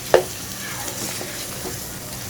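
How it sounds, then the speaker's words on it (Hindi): Onion paste being stirred into chicken in a pan for palak chicken, a single sharp scrape near the start followed by a low, steady sizzle with faint spoon movements. "और साथ ही मैं प्याजों का पेस्ट भी ऐड कर दूंगी इसमें, और मिक्स करेंगे इसको अच्छी तरह से"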